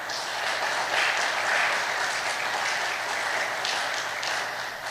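An audience at a ceremony for young people joining diplomatic missions abroad applauds a laureate, steady dense clapping from a crowd sustained throughout without voices.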